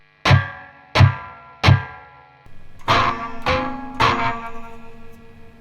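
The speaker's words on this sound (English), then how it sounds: "Another very common source of noise is tremolo springs." Three hard metallic clanks hit in an even rhythm, followed by several springy, ringing reverberant twangs of a custom guitar's tremolo springs that buzz and decay, close and fairly loud.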